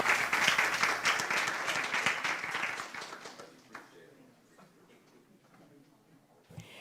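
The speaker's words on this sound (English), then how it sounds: "Give him another round of applause." Applause from the audience at a school board meeting, loud and dense for about three seconds before tapering off into a few scattered claps and then quiet room ambience.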